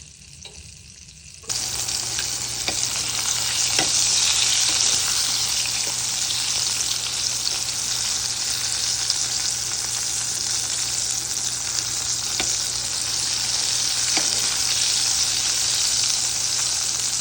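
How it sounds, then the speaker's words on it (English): Eggplant fries frying in hot oil until golden, a loud steady sizzle that starts abruptly and runs on evenly, with a few faint clicks and no talking. "We're going to let it fry until golden, then we take them out."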